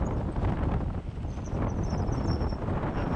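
Strong mountain wind roars across a microphone during a bike descent in the Sierra Nevada, a steady, loud, broadband buffeting that fills the whole stretch without pause.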